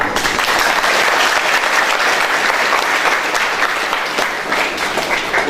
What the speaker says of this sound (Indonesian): Untung ada tepuk tangan